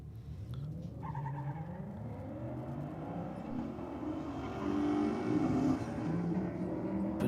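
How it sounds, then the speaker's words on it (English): Nissan Skyline R33 and a BMW launch side by side at a drag strip, engines roaring steadily and building louder near the end, with a brief tire squeal as the Skyline fights for traction. "Bit of a wild launch for the 33 again, so fighting a little bit of traction and some chassis walking around down there"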